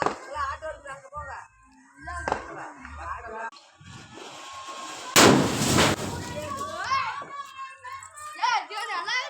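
Firecrackers set off outdoors burst once in a single loud, sharp crack midway through, while children talk and call out around it before and after.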